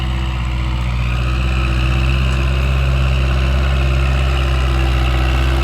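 A farm tractor engine idles steadily close by, a loud, continuous low drone with a regular throbbing pulse and a faint vibrating hum, no talking.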